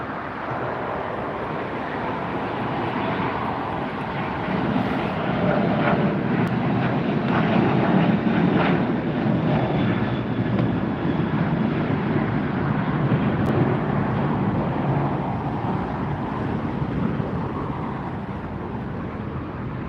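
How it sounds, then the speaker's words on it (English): United Boeing 737-9 jet departing LAX, a sustained loud engine roar that swells toward the middle and slowly eases, heard from a distance with no talking. "Next departure is United 737-9ER."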